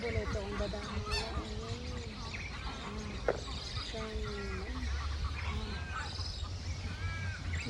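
A large flock of birds honks and calls in a noisy, overlapping chorus, many birds close by, with a person talking briefly in between.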